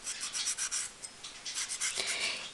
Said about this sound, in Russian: Мы их режем на кусочки, на дольки, вырезаем